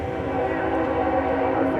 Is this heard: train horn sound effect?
yes